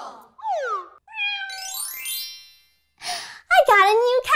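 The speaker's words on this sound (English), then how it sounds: "Hey, did I hear a cat?" A cat meows several times in a cartoon-style kids' show, with sliding, whiny cries that rise and fall. A voice speaks right after them.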